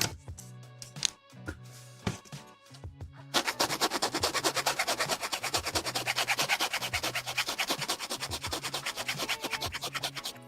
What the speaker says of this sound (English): Just rub it without applying pressure.